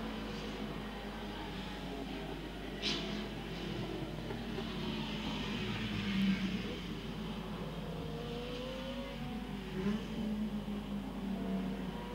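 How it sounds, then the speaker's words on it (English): A race car crests a hill at a circuit, its engine a faint, distant drone that swells slightly midway and again near the end, with no voices over it. "There's the Neville Kutaya car coming over the top of the hill"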